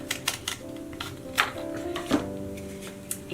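Scissors snip through a cardboard roll in a few sharp cuts over a steady low hum, with no talking.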